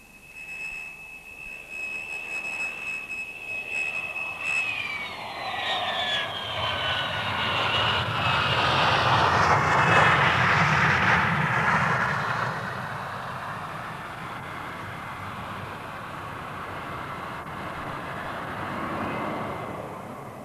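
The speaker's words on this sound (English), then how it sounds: "in his private Boeing, Malcolm is flying back to revive that picni" A private Boeing jet flying, a loud steady engine roar with a high whine that drops in pitch early on, swelling to a peak midway and then holding a broad sustained rumble, with no talk.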